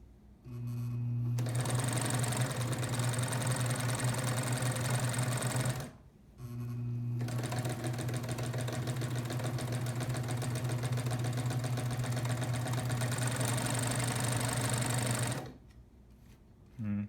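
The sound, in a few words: industrial chain-stitch sewing machine running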